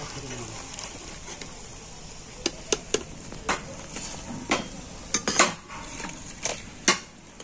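Dal nimki made from moong dal and flour being lifted from a frying pan: scattered light clinks and scrapes of a utensil against the pan, irregular and close, over a faint background sizzle.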